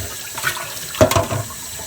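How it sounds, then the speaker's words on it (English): A kitchen bowl rinsed under running water while preparing curry chicken liver, with a short gush and splash in the middle over quieter trickling, close by. "Give your bowl a nice good rinse."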